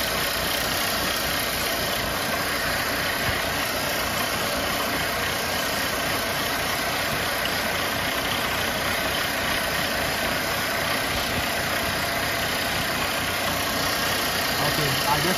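Mercedes-Benz C250 engine idling steadily with an oil leak, a continuous even hum heard up close under the hood with no break in the sound.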